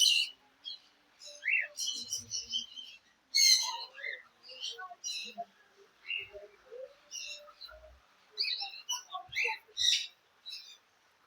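Small white birds in a netted indoor aviary chirp in quick, high bursts and twitters, several calls overlapping in clustered flurries separated by short quiet gaps, clear and close.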